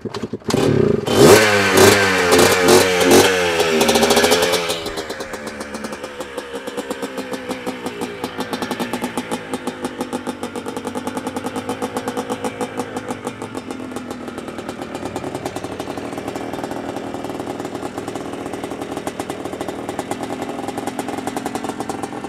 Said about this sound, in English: You want me to hold the choke out while you try to start it?